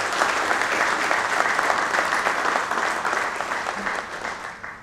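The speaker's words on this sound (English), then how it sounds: "So please join me in applauding." Steady, dense audience applause at a corporate leadership summit in India, many hands clapping loudly and evenly for several seconds without a break.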